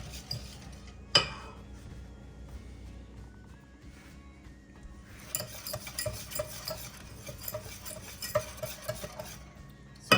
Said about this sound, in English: I'm just gonna melt my butter and honey together until it's smooth.